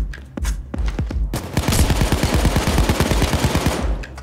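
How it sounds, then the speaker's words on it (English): Rapid gunfire in the Payday 2 heist game, a few separate shots followed by a dense automatic burst of sharp cracks at a quick steady rhythm, loud and close with no talk. "These shots are just tickling him."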